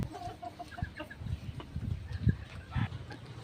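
Chickens on a farm, including a two-month-old chick, give scattered soft clucks and short calls at close range, irregular and intermittent against quiet background.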